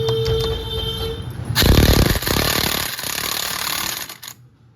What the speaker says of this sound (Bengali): এটা 19 নম্বর নাট আছে এটা। এবার এটাকে আমি টাইট করে নেব।